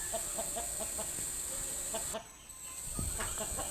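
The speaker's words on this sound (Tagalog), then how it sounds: "Ito po yung 5 cock derby na ating inabangan mga kaludes. Grabing bakbakan dito." Roosters at a 5-cock derby fight amid a steady crowd din, with clucks and scuffling taps over a constant high-pitched hiss that briefly drops away midway.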